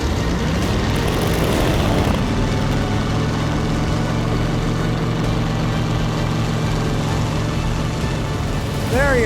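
A racing hydroplane engine runs loud and steady at close range, a dense droning roar that holds throughout with a faint rising whine at the very end; a voice may be faintly present under it.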